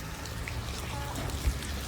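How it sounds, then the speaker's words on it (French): Steady rain falls on a city street in a continuous close hiss, with a brief low thump near the end and no speech. "tout ce que je déteste, c'est les jours de pluie comme ça"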